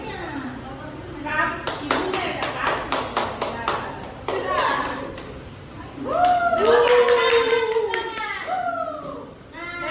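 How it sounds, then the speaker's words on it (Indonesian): Clapping in a classroom during a microteaching session, several bursts of hand claps with children's voices and chatter mixed in. "Tepuk tangan dong."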